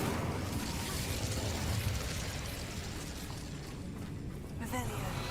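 The Incendio fire spell in Hogwarts Legacy erupts as a loud, continuous roaring burst of flame, dense and rumbling throughout and tapering near the end.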